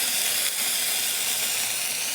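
Tomatoes and other ingredients sauté in a pan, giving a dense, even, loud hiss of steam and sizzle that runs without a break from start to end.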